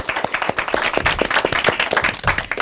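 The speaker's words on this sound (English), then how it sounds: "Big round of applause for yourself." Clapping after an elementary school derby match, sharp hand claps in an uneven rhythm from a small group, fairly close and steady for the whole moment.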